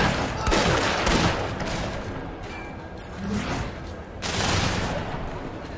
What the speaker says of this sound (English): I can do blind fire as well.